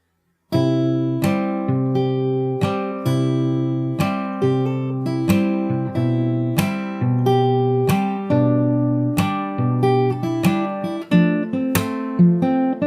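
A plucked acoustic guitar plays a repeating riff of picked notes with steady rhythm, each note ringing clearly and up close, with no voices.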